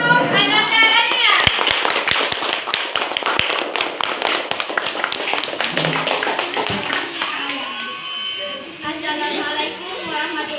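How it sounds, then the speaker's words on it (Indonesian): Classroom applause for a student about to present: a burst of sharp, overlapping hand claps, fairly close and loud, with voices talking and calling over it before it tapers off. "Sebelum itu kita beri tepuk tangan dulu untuk Ananda Rania."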